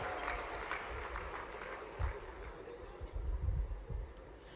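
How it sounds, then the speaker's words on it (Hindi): A large crowd at a political rally in Khargone claps and cheers for Modi, producing a steady, dense wash of applause that swells in places, with no clear speech on top. "जोरदार ताली बजा मोदी जी के लिए"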